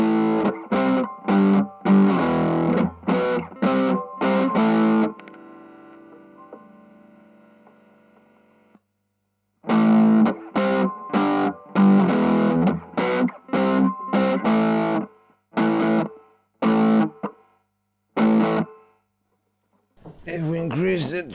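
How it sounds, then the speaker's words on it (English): A heavily distorted electric guitar, played through a TC Electronic Iron Curtain noise gate pedal, plays choppy, rhythmic bursts, a sustained droning stretch in the middle, then more stabbing chords ending in a sharp squeal. "If we add some distortion."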